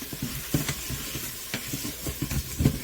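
Sausage and onions sizzle in a soup pot as a spoon stirs them, producing repeated scraping thumps and knocks over a constant close frying hiss, with no voices.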